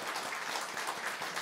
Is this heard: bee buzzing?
no